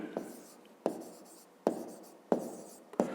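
A pen writes on paper in five separate bursts of quick scratching strokes during a fifth-grade maths exercise, close and quiet with short pauses between them.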